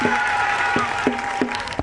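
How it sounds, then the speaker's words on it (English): A crowd applauds a primary school pupil's poem at St. James Anglican Primary School, a steady wash of clapping with a few sharper claps standing out over a low background hum. "His poem draws an applause from the crowd"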